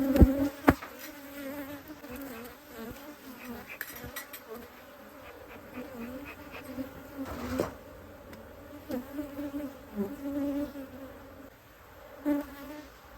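Honey bees buzz in an opened spring hive full of brood in the Texas Hill Country. The close, continuous droning hum wavers in pitch as individual bees pass the microphone, with occasional handling knocks.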